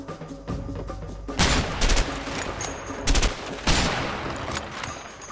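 Gunshots in the video game A Way Out ring out as several sharp, loud bursts after a quieter opening, close and punchy with rapid volleys around the middle.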